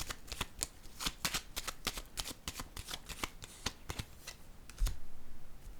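Tarot cards handled on a table, a quick run of crisp papery riffles and flicks close by, ending with a single soft thump as a card lands.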